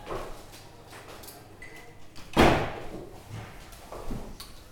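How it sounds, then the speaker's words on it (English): A door shuts with one sharp, fairly close thud in a quiet classroom, surrounded by faint rustling and small knocks. "we're going to close the door."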